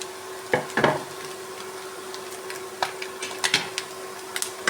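A spoon scrapes and stirs an egg and pappad mixture for thoran in a pan, giving a few sharp clatters and scrapes at irregular intervals over a faint steady hum.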